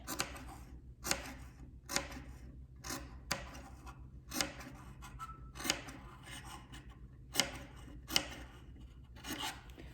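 Scissors snip through face mask fabric near a stitch in a steady series of crisp cuts, about one per second, close and fairly quiet with a soft rasp between snips.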